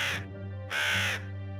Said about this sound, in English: as she gets about 10 feet away from the door, you hear a raven.